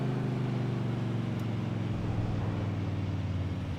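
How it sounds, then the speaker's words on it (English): A stopped race car's engine idles at Mid-Ohio during an AOSC Super Series round, a steady low drone holding without change throughout. "Sounds like the engine's still running."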